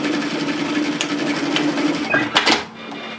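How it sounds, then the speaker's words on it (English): A sewing machine stitching a straight seam with a back tack on woven fabric for a cape: a steady, close mechanical whir that runs continuously, then slows and stops near the end. "So I'm going to start stitching here, back tack, and then I'm going to continue this line in a straight line"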